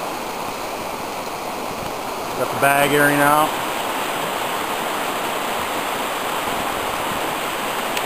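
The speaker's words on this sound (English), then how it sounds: "Right here on the creek." A creek on the Lower Deschutes rushes past a campsite, a constant close roar of flowing water throughout, with someone speaking briefly over it.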